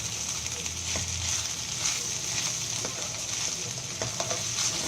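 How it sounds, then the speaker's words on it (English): A capsicum dish sizzles steadily in an uncovered pan, with a constant frying hiss and scattered scrapes and clicks from stirring throughout. "Just keep stirring. It's like a stir fry."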